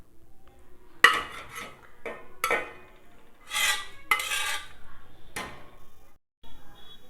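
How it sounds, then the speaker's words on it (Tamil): Cooked mutton added to a pot for mutton biryani: several sharp metallic clinks and scrapes of a spoon against the vessel, close and intermittent, with quiet gaps between. "வேக வச்ச மட்டனை சேர்த்துக்கலாம்."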